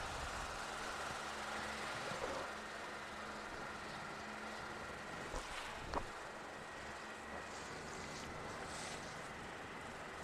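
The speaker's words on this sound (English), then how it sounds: "we're getting that choppy water now. The waves are bouncing off the part" Choppy water slapping and churning around a boat as waves rebound off a nearby structure, a steady broadband wash with wind rumble and a brief thump near the middle.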